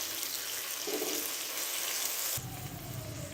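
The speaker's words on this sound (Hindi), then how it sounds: "और यहाँ पे अब हम प्याज को फ्राई करेंगे" Onions sizzle loudly in a pan for chicken pulao, a steady close frying hiss that shifts abruptly near the end as tomatoes go in.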